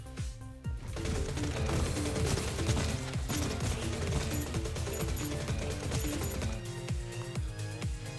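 Rapid, continuous gunfire from the video game Neon Abyss crackles without pause over loud, dense game music, staying close and steady throughout.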